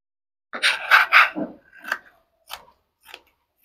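Scissors snipping through blouse fabric during tailoring, a few crisp cuts in quick succession followed by two sparser snips, close and fairly loud with no talk.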